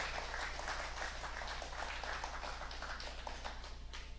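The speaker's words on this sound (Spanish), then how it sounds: "Dale un aplauso" A church congregation claps in praise during a bilingual sermon, a continuous, moderately distant wash of many hands with a low electrical hum underneath and no talk.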